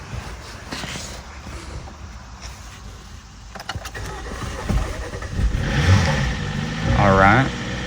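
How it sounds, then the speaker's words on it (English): A 2018 Jeep Compass Latitude with light damage, under rebuild, cranks and fires up near the end after being given gas, its engine catching and revving loudly over a quieter start with background noise. "It fired up after I gave it some gas for sure."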